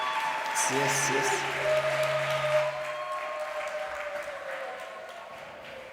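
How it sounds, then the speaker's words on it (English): A seated audience at a dialogue session applauds a newly introduced facilitator: a steady, moderate wash of clapping across the room, with a single voice speaking briefly over the start. "please give him a round of applause"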